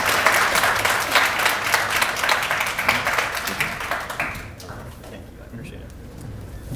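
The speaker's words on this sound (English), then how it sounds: "So let's give a warm applause to Councilmember Charles Allen." Applause from a small ceremony audience welcoming Councilmember Charles Allen, steady clapping for about four seconds before fading into a quieter room.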